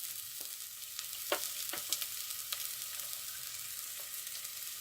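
Chopped onion, garlic cloves and green chilies sautéing in hot oil for a dried anchovy curry, giving a steady faint sizzle with a few soft stirring scrapes and no talk.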